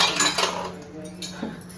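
Dishes and utensils being washed, with close metallic clinks and clatter of cutlery and pots over a running background hiss. No talking is heard.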